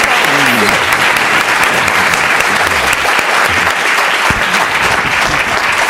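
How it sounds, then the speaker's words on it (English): Sustained applause from a large conference audience after keynote speakers, steady and dense throughout, with a few faint voices mixed in underneath. "If we join another round of applause."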